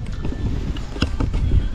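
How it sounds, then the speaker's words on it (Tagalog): Gusty wind rumbles and buffets close to the microphone, with low, uneven blustering and no clear voices. "Mahangin"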